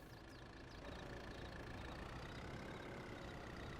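A Kubota tractor engine idles steadily in Farming Simulator 22, a quiet, even low rumble with no talk over it.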